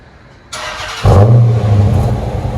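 A Dodge Challenger R/T with a 5.7L HEMI V8 and Flowmaster FX exhaust revs hard, the engine note jumping to a loud, deep, sustained roar after a brief rise in noise, heard from inside the car.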